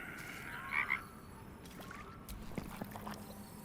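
A frog in Baldur's Gate 3 gives a couple of short croaks near the start, heard over quiet watery game ambience with faint splashes and trickles.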